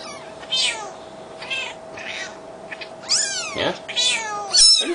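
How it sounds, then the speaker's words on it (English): Newborn kittens from a litter of five mew in a series of high, thin cries, several short calls in a row, close by, with a steady low hum underneath. "Have a look at one of these kittens?"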